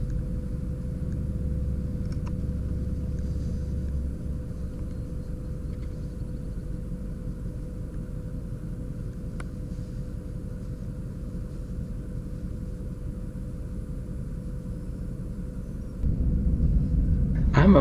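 Car driving down a road toward a bridge on the way to a kayak fishing trip: a steady low engine and road rumble from inside the vehicle throughout, growing louder near the end.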